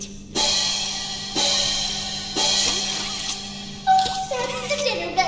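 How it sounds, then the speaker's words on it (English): A dinner bell rings in the horror game Poppy Playtime Chapter 2, three loud, bright metallic strikes about a second apart, each ringing out before the next, followed by a jumble of brief electronic tones. "that's the dinner bell"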